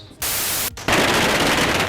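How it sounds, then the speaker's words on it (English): Firecrackers burst at the Yensui Beehive Fireworks Festival in Tainan, Taiwan, a loud, dense crackling roar that starts suddenly, pauses briefly, then resumes as a continuous wall of rapid explosions. "2 million firecrackers were set off"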